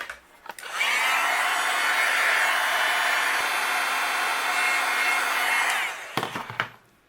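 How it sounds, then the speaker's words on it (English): A heat gun blows steadily for about five seconds, melting white embossing powder on a handmade birthday card, a loud even whooshing roar with clicks as it switches on and off. "I'll use my heat gun, and we'll go ahead and melt this."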